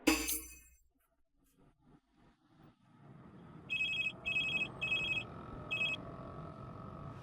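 A telephone rings in four short electronic bursts after some faint clicks and handling noise, moderately loud against a low background hum.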